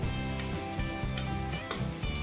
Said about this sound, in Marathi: आणि आता छान असं परतून घेऊ।